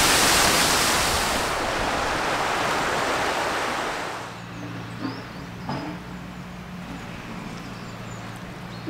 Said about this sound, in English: I was not expecting a small waterfall